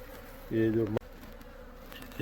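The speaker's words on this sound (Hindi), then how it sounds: "यण सिंह बिष्ट जी को बुलाया और उनकी सहायता से आज ये फिर इन मधुमक्खियों की घर की सफाई कर रहा हूँ।" Honey bees buzz around a hive being cleaned, a close, droning hum that swells briefly and loud for about half a second, then fades into a quieter insect background.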